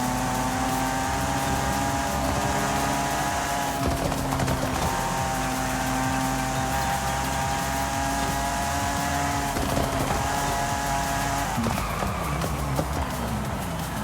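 Lotus Exige engine driven in GTA V, a sustained loud buzzing drone held at steady revs for long stretches, with brief dips where the throttle shifts and a drop in pitch near the end, no voices.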